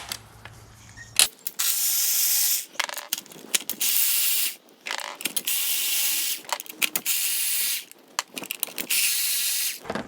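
Bolts and nuts being loosened from the intake of a 2007-2008 Honda Fit, rapid ratchet clicking in repeated bursts with short pauses between, close and fairly quiet.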